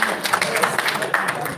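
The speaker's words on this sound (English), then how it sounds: "Put your hands together for some applause." Audience applause at a presentation event: a short, steady burst of dense clapping that fills the moment, loud and close.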